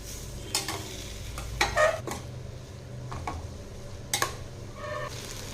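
Masala-coated chilli broccoli stirred in a pan, with a few scraping clatters of the spoon spread over a soft, steady sizzle; no voices.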